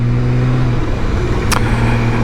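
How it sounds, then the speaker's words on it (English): A 2022 BMW K 1600 six-cylinder motorcycle engine drones steadily and smoothly at close range, a constant low hum with a brief higher whoosh partway through. "It's a big 6-cylinder engine."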